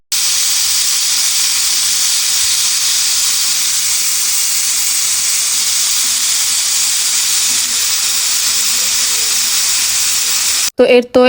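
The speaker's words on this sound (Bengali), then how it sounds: "এখন আমি কুকারে চড়িয়ে দিচ্ছি গোস্তটা সেদ্ধ হওয়ার জন্য" A pressure cooker boiling marinated beef for biryani vents a loud, steady, close rush of steam for about ten seconds, then cuts off abruptly as a brief voice is heard at the very end.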